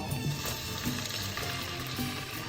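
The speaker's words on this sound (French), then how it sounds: "je vais la mettre dans le fond de ma poêle, dans l'huile qui a servi à la cuisson de mes piments" Oil left over from cooking peppers sizzles in a pan as salted leaves go in, a soft, even frying crackle held at a low, steady level.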